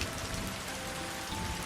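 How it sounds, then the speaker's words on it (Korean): Steady rain falls at night, a continuous even patter on surfaces with no voices or other sounds. "오늘처럼 비가 내리는 밤이면"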